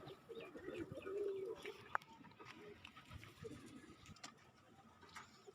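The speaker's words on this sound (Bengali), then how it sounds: "কবুতরের বাচ্চা জোড়াকে দেখাই।" A pair of young pigeons coos nearby in low, throaty bursts, clearest in the first two seconds. A sharp click and faint background noise follow.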